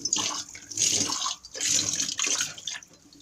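A glass cup is washed under running tap water, giving a close splashing and gurgling flow that swells and fades in three uneven surges as the glass moves through the stream, with no talk.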